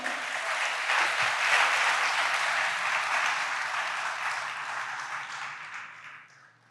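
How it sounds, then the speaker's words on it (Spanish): A church congregation applauds during a Spanish-language sermon, a dense wash of clapping that swells early and then slowly fades away. "¿Le da un aplauso al Señor?"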